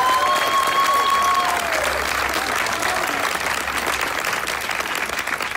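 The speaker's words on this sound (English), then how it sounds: "Let's give them a big round of applause" An audience gives a jazz ensemble a big round of applause after a lively opening set, loud sustained clapping with crowd noise and a few whistles or cheers rising over it early on.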